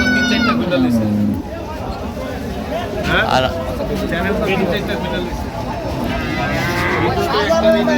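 A dairy cow and a calf moo loudly at a busy rural cattle market in Dinajpur, with long calls rising over a steady babble of nearby voices, people talking throughout.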